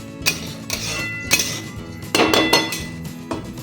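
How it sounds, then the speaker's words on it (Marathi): Rava (semolina) dry-roasting in oil in a pan for upma, with a spatula scraping and clinking against the metal in irregular bursts, close by and moderately loud, with no talking. "तर असा मस्त छान भाजून घ्यायचा आहे."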